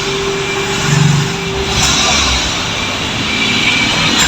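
A car engine idles steadily at normal operating temperature, a continuous loud drone. The engine has a fault that makes the smoke sting the nose and eyes and the air-conditioning compressor cut out.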